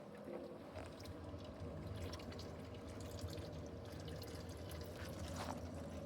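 Water runs steadily and overflows from a container during a hand H&E slide-staining wash, a faint continuous trickling and splashing with no voices.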